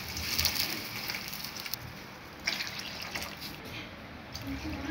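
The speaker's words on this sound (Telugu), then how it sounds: "ఇదే కప్పుతో 4 కప్పు వాటర్ వేస్తున్నాను నేను." Water is poured from a cup into a cooking pot for semolina upma, splashing and trickling close by in a few uneven bursts with some drips at a moderate level.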